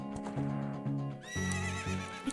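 A horse neighs in Zelda Ocarina of Time 3D: a loud, close whinny with a rising, wavering cry over clip-clop hoofbeats, without speech.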